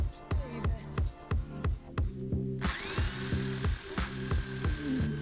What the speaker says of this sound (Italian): ora lo andiamo a forare utilizzando un trapano